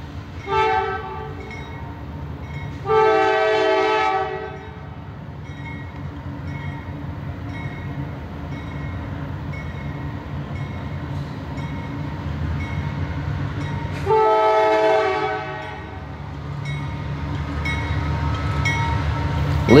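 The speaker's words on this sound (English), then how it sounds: "we capture the same train again as they get their light to proceed into the intermodal yard just west of town." CSX freight train with GE locomotives near an intermodal yard, sounding two loud blasts of its multi-chime horn several seconds apart over a steady rumble of engines and rolling cars.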